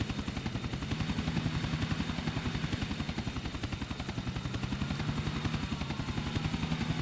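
A helicopter in GTA Vice City Next Gen Edition roleplay beats out a fast, even rotor chop that runs loud and unbroken for several seconds with no voices over it.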